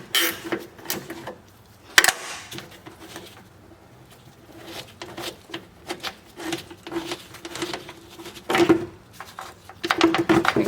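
An intake tube and its bolts are taken off a Mazda MX-5, giving close, irregular clicks, rattles and scraping handling noises of metal and plastic parts, with no talk.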